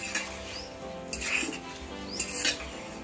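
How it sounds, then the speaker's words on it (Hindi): Spices stirred into pulao rice in a pressure cooker, soft scraping and clinks of a metal spoon against the pot in a few short bursts, close and fairly quiet. "अच्छी तरह से मसालों को मिला दें"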